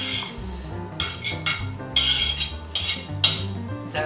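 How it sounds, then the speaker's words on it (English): A fork breaks up and mixes crab meat with room-temperature cream cheese in a bowl, giving a series of close, distinct clinks and scrapes in uneven bursts, with no talk over them. "Take a fork so this way you can break up the crab meat and also the cream cheese"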